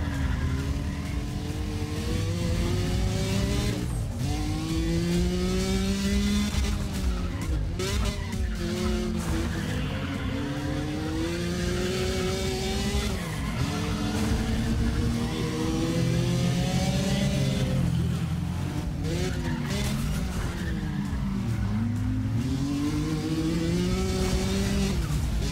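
Racing cars in Need for Speed ProStreet roar through a race, engines revving up and down continuously with repeated tire squeals and skids, loud and steady across the whole stretch.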